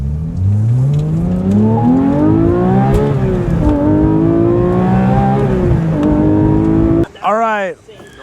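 A Porsche 992.1 GT3 Manthey Racing track car revs loudly up and down through the gears from close inside the cabin, with rising and falling engine pitch, then a sharp high rev sweep near the end.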